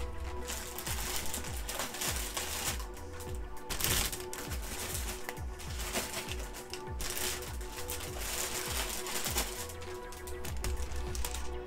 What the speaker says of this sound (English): there's going to be a bit of crinkling while I try and find the instructions.